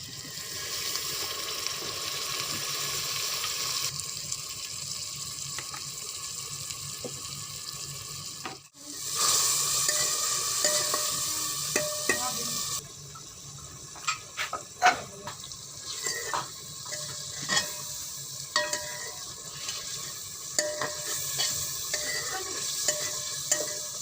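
Water is sprinkled over turmeric, salt, black pepper and cumin frying in a pan, hissing into a loud burst of sizzling, then a spoon stirs with scattered scraping clicks over a steady fry.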